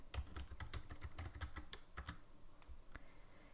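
Quick keystrokes on a computer keyboard type a word into a search bar: a brisk run of close clicks, then a few isolated taps.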